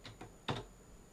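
A few quick keystrokes on a computer keyboard, three close, faint clicks with the last one slightly louder, then quiet.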